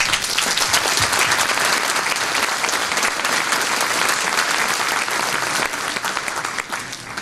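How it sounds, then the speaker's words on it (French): A large audience at a mayor's New Year address in Saint-Gervais Mont-Blanc breaks into sustained applause, dense and loud, holding steady before tapering slightly near the end. "Et je pense qu'on peut les applaudir."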